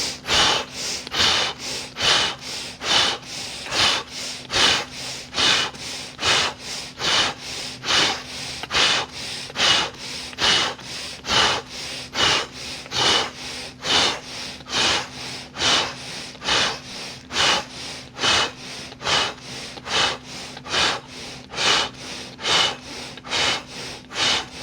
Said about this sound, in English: make sure you're forcefully breathing with this